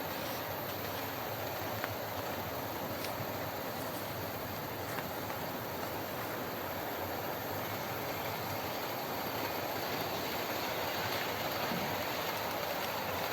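An OO gauge model train runs on a crowded loft layout, giving a steady, continuous rolling hum and rattle with no talk over it.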